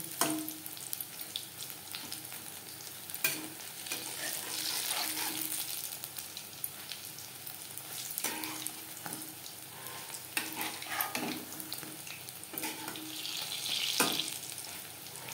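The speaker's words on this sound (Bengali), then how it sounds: "পাকোড়া ভাজবো মিডিয়াম ফ্লেমে। একটা সাইড ভাজা হয়ে গেলে অপর সাইডটা উল্টে দেব।" Cabbage, onion and tomato pakoras fry in hot oil over a medium flame, a continuous bubbling sizzle punctuated by clinks and scrapes as pieces are turned, close and without speech.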